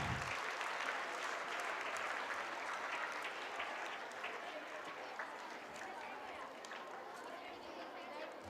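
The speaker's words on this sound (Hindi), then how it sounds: "एक बार जोरदार तालियां बजाकर इनका उत्साह बढ़ाएं।" An audience claps loudly at a school Children's Day celebration, dense sustained applause lasting several seconds, with crowd noise and voices mixed in.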